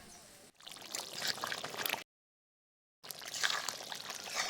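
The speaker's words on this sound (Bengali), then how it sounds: "জলের পরিমাণটা আমি একটু বেশি করে দেব, যাতে মাংসটা খুব ভালো মতো সেদ্ধ হয়ে যায়।" Water pours into a pot of duck meat and potato curry while cooking, a steady close splashing stream that breaks off for a moment of silence and then resumes.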